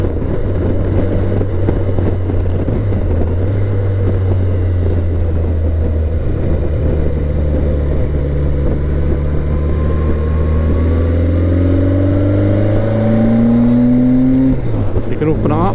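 A BMW motorcycle engine pulls steadily in third gear while riding, a loud continuous drone whose pitch climbs gradually then drops at a shift near the end, with wind noise throughout.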